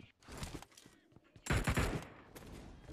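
Rapid bursts of AKM rifle fire ring out from a nearby building in PUBG Mobile on the Rozhok map, a dense rattling volley that swells loud around the middle and keeps crackling to the end.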